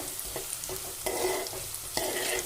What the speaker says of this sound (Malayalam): കുറച്ച് ഉപ്പിട്ടിട്ട് വഴറ്റിയെടുക്കുകയാണ്